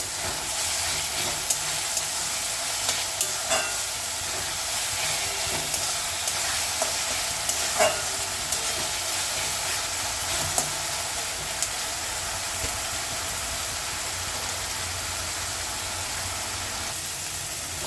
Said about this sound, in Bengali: একটু নুন দিয়ে দেবো, পেঁয়াজটা টমেটোটা নরম হয়ে যাবে।